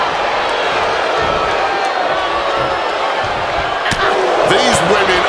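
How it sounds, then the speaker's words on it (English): Wrestling crowd in WWE 2K26 during an Iron Man match, a steady dense roar of audience noise with cheering swelling louder near the end, continuous and fairly close. "These women are earning every cheer, every gasp, every roar from this audience"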